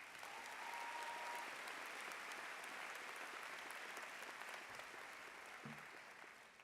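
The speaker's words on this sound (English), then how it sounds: "One more applause, please" An audience at a University of North Georgia spring commencement ceremony applauds: dense, sustained clapping from a large crowd in a big hall, steady throughout and slightly fading at the close.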